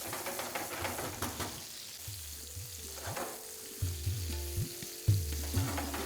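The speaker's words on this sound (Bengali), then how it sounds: "মিডিয়াম টু হাই ফ্লেমে এটাকে আপনাদের ভেজে নিতে হবে মোটামুটি 3 থেকে 4 মিনিটের মতো।" Pointed gourd fries in oil over a medium-high flame, a continuous close sizzle punctuated by scraping stirs and soft knocks of a utensil in the pan.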